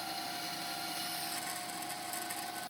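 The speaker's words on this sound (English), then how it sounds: "I quickly changed the bandsaw blade for a metal cutting one and opted to cut a bit off" A bandsaw fitted with a metal-cutting blade cuts through a metal piece in a workshop, giving a steady close whining drone with a high grinding edge, ending abruptly.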